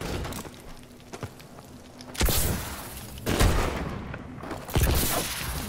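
Gunfire in Call of Duty Advanced Warfare, a sniper-only match: a few heavy, booming shots spaced seconds apart over a low, quiet game background.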